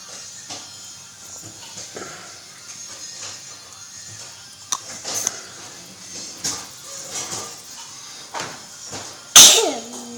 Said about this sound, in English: Don't sneeze on your sister.